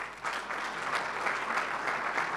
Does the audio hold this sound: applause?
yes